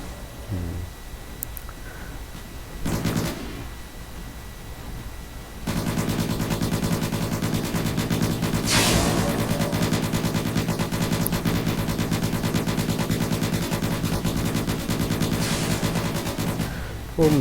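Sustained machine gun fire from the robot battle video game World of Robots, a dense rapid rattle running continuously for over ten seconds after a few short bursts and scattered impacts.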